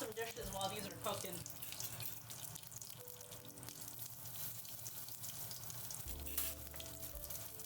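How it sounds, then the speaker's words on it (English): Tap water runs into a kitchen sink while dishes are washed, a steady close hiss under the loud sizzle of egg rolls frying in a pan nearby. "So you might hear like some water running."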